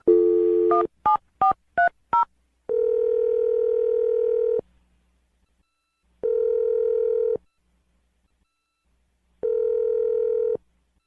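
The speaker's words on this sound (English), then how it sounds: "I'm going to dial her phone number right now." A quick run of touch-tone dialing beeps, followed by three long, evenly spaced ringback tones separated by silence.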